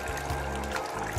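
Refill water pours into a pot over raw chicken, a steady close splashing stream with a low hum underneath, before it is boiled as piranha food.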